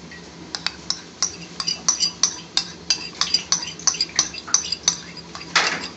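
A spoon stirs salsa ingredients in a bowl for a hot sauce dip, giving a run of light clinks and taps against the bowl in an uneven rhythm, close and fairly quiet.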